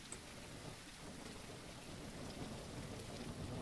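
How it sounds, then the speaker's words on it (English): Steady rain in a forest video game set in Yosemite, an even broadband hiss with faint patter and no voices, holding at a constant level throughout. "Oh, it's raining."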